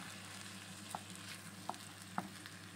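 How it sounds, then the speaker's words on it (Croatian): Soft, faint sizzling as a vegetable mix with onion is sautéed for đuveč, with a few light taps of the stirring utensil against the pan. "Također i nju sa lukom skupa prodinstati i miješati ravnomjerno."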